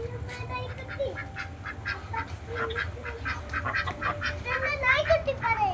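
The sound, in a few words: ducks quacking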